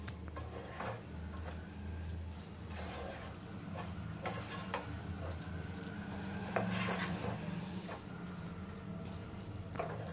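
Cooked rice stirred into fried paneer in a pan with a spatula, making soft, continuous scraping and clinking against the metal under a steady low background hum.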